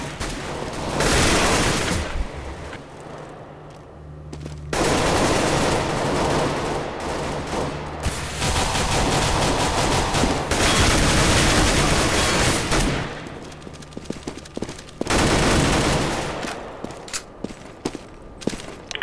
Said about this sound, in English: I count 6 shots